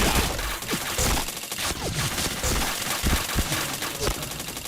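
Loud rapid gunfire from the video game Point Blank, close repeated shots and automatic bursts filling the whole stretch, with a voice speaking briefly among the shots.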